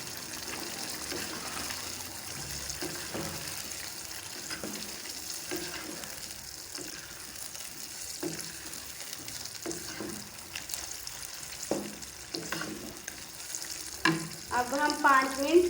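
Chicken korma cooking with its masala paste in a pan, a continuous sizzle with intermittent stirring scrapes and knocks that grow louder and busier toward the end, close by and without speech.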